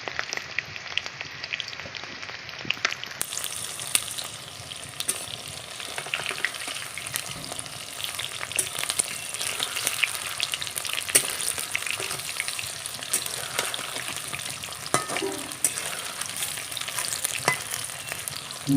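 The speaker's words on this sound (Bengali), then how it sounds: "এই যে বড়া ভেজে নিচ্ছি।" Fritters (bora) frying in oil in a home kitchen, giving a steady, close crackling sizzle that runs unbroken throughout with small pops and occasional stirring.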